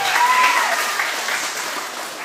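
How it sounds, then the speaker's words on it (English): An audience applauds for a man being introduced at an indoor church children's gathering, a steady dense wash of clapping that stays loud throughout, with a brief whistle-like tone near the start. "So everybody clap for Mr. Eric."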